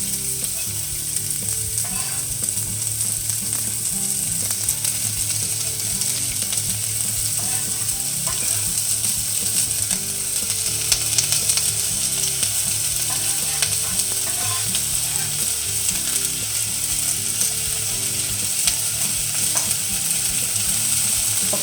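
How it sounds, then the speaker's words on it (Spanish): Piquillo peppers sauté in a little oil in a small saucepan over medium heat, a steady close sizzle and crackle running unbroken throughout, with faint scraping as they are stirred. "Y lo ponemos a rehogar en un poco de aceite en un cazo."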